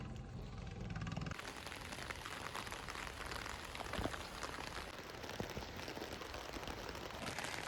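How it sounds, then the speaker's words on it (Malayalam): Rain falling outdoors in Kerala, a faint steady hiss of drops spread evenly through the clip, with an abrupt shift in the background at the start, distant and low in level, no speech. "നല്ല മഴയാ"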